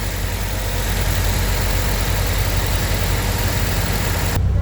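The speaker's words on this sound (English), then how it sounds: "Okay, but the motor running." A 2012 Ford Transit van engine idles steadily at close range, a low continuous rumble with no talking, cutting off abruptly at the very end.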